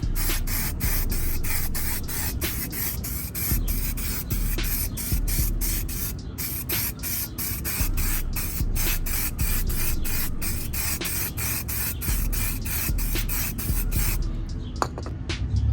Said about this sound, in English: this is our first coat of primer